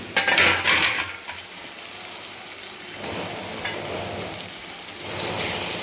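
Tomato masala softening and frying in oil for cashew curry, a continuous close sizzle with spoon stirring and a faint metallic clink at the start.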